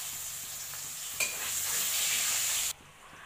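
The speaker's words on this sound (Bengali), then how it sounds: "আমি এবারে তেলের মধ্যে আলুগুলো দিয়ে দেবো, আলুগুলো ফ্রাই করে নেবো।" Potatoes frying in hot oil for a katla fish curry sizzle with a steady hiss, a sharp burst as they go in, then cut off abruptly near the end.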